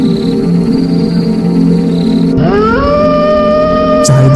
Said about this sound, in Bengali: ঝোপঝাড় থেকে কীটপতঙ্গের আওয়াজ